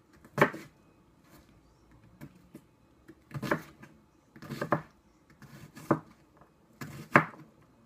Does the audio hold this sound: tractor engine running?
no